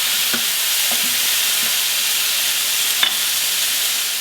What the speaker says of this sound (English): Now I'm going to add the kimchi. Saute it.